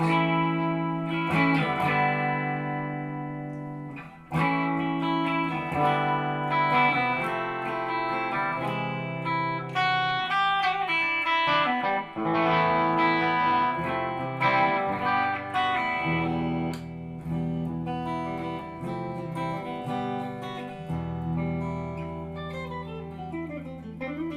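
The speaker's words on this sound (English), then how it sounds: "But some very good, very traditional Les Paul tones." A Gibson Les Paul Modern Lite electric guitar playing sustained chords and melodic lines with a warm, slightly overdriven tone, continuous and fairly loud throughout, with no talking.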